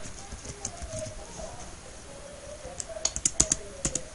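Computer keyboard keys tapped in a short burst of clicks near the end, fairly close and moderately loud, after a stretch of quiet room tone with faint bird cooing in the background.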